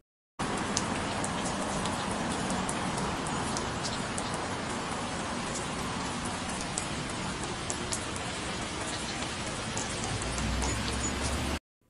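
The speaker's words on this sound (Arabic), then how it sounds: "احنا ممكن برضو نختار المطر كده ونبطئ صوته" Steady dense rain with a heavy hiss, slowed down in a phone editing app, running continuously and loud for the whole stretch.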